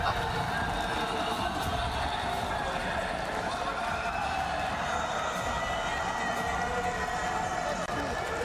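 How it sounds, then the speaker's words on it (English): A dense, steady crowd roar from a packed esports arena at the Warzone final, loud and continuous throughout, with a commentator's voice mixed in. "you can hear the crowd"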